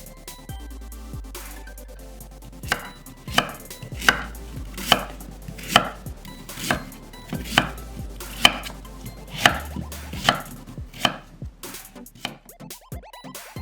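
Rhythmic knife chops through peeled sweet potato on a cutting board, about a dozen firm thuds at a steady pace over a quiet, low background hum.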